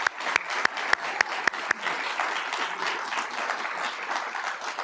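An audience gives a round of applause at a city's State of the City address, a few sharp close claps at first, then a steady, broad crowd clapping that holds at moderate level.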